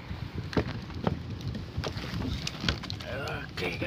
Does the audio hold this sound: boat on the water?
yes